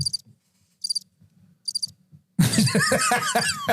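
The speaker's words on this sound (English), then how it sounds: "There's a crickets button." Cricket chirps from a soundboard button, three short high trilled bursts repeating over a low background, followed by people talking loudly.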